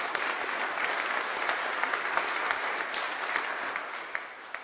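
Sustained applause from an arena audience in Baltimore, a steady dense wash of clapping hands with scattered sharper claps, fairly loud and continuous throughout with no voices over it.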